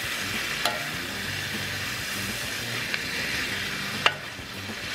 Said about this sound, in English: Cook up some shrooms.